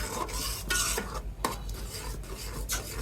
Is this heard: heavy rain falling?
no